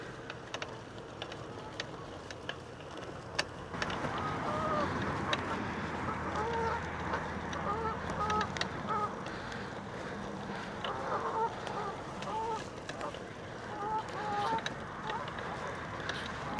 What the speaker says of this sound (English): Canada geese are having a chat about something.